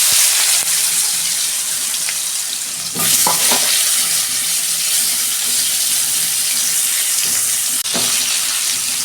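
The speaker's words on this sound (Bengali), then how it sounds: "তেল গরম হয়ে গেছে, আমি কাঁকড়েলগুলো ভেজে নিচ্ছি।" Pieces of spiny gourd (kakrol) fry in hot oil, giving a loud, steady hiss with a few clatters of a utensil.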